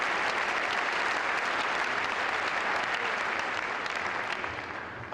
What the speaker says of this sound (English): How about again, we give them a nice round of applause.